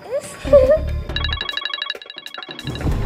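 A telephone bell ringing in a home, bright repeated rings following brief talk, with speech around it.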